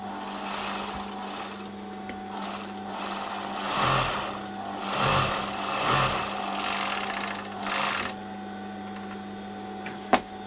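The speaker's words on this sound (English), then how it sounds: "This is the crotch now that I'm overlocking." An overlocker runs along the crotch seam of ladies' trousers, giving a steady mechanical whir with a few swelling passes and a sharp click near the end, close and moderately loud, with no speech.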